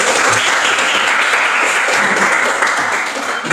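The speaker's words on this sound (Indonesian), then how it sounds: "Berikan tepuk tangan tema Anda." A classroom of students in a history lesson applauds a classmate's answer, loud, dense clapping that stays even and close throughout before tapering slightly at the end.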